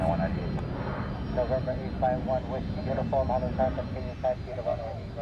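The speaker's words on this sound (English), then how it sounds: "Another biz jet's coming up behind me. It's very loud." A Gulfstream 550 business jet passes an airport spotting spot in Honolulu, Hawaii, with a broad, loud engine roar heard under someone talking.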